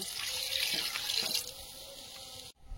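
Water runs steadily into a pot of potatoes set up for boiling, a close, bright splashing pour lasting about two and a half seconds before it cuts off abruptly.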